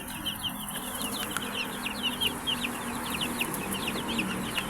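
A flock of broiler chickens raised as a 100-head batch clucks and peeps continuously, many soft overlapping calls at moderate distance over a steady background hum.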